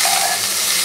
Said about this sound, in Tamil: கருவேப்பிலை ரெண்டுத்தையும் போட்டு நல்லா வதக்கிக்கோங்க